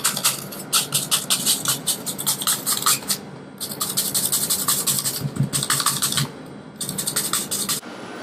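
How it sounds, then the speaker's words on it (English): Apples grated by hand, quick rhythmic rasping strokes in bursts with brief pauses between, close and fairly loud, no speech. "now that we have finished grating our apples"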